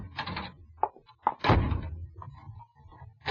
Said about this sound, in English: It's no use locking yourself in there, Paul.